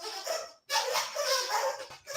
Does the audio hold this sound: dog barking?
yes